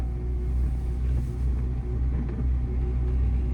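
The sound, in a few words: car engine accelerating during a driving lesson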